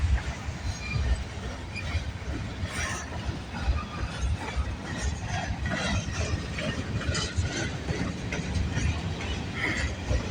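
A CN freight train rolls past continuously, with a dense rumble, rattling cars and occasional wheel squeal filling the whole stretch at moderate distance.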